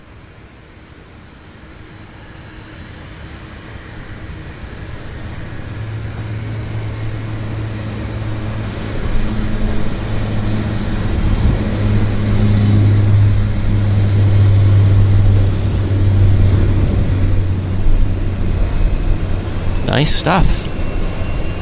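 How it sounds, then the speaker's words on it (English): A Bombardier Q400 turboprop airliner on its takeoff roll at Vancouver airport, a steady droning engine hum with a low tonal rumble that builds and holds, heard at a distance while a commentator talks over it. "Okay, we've got a Q400 on the roll."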